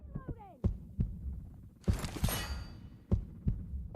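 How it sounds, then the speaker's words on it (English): A low-health heartbeat effect in PUBG Mobile thumps as a slow, regular double beat, deep and close, with a burst of crackling game noise in the middle and a short falling tone at the start. "Love that heartbeat when the life gets a little bit low."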